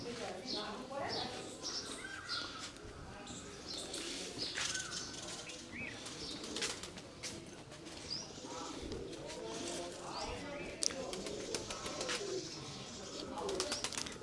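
Pigeons coo and flutter around a small bird house at the Salangpur Kastbhanjan Dev Hanuman Temple gaushala in Gujarat, India, a continuous soft chorus of calls and wing flaps under someone talking.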